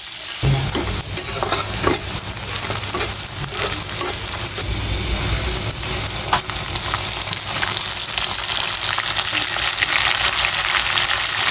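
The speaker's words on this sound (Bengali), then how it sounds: "একটু কালারের জন্য জর্দা রং এবং লবণ দিয়ে আলুটা একটু ভেজে নিচ্ছি" Potato pieces frying in hot oil with zarda food colouring and salt for biryani, giving a constant loud sizzle broken by scraping stirring sounds from a spoon in the pan.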